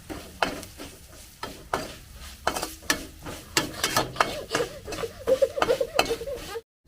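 Coriander powder roasts in a pan for a goat brain fry, with a spoon scraping and stirring in irregular bursts over a faint sizzle, close and fairly quiet.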